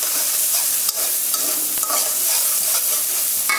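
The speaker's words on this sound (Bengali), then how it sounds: "এভাবে করে 1 মিনিট পর্যন্ত ভালো করে নেড়ে চেড়ে কষিয়ে" Shrimp stir-fried with turmeric and chili in a hot pan gives a loud, continuous sizzle, broken by scraping stirring strokes and occasional clacks of the utensil against the pan, with no talking.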